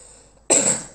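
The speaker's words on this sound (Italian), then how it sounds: "C'ho la tosse" A single sharp cough bursts out close by after a moment of quiet room tone, then trails off.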